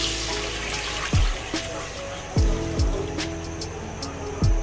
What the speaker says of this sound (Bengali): এখন আমি এটার মধ্যে পানি দিব।